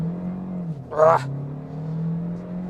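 A Hyundai Tucson 1.6 T-GDI hybrid pulls away from a standstill, heard from inside the cabin as a steady low engine drone with a brief louder burst partway through.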